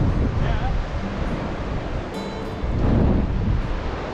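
Surf and wind at a beach on the southern tip of New Zealand, a steady broadband wash with a gust of louder roar near the end, steady and close throughout.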